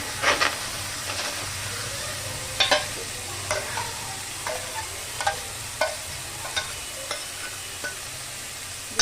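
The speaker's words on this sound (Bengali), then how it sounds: "যে মাংসটা ম্যারিনেট করে রেখেছিলাম, যে মাংসটা, এই মাংসটা এবার আমি এর মধ্যে দিয়ে দেবো" Marinated chicken cooks in a pan with no oil, giving a steady close sizzle broken by a series of sharp spatula scrapes and clinks at an irregular pace, with no voices.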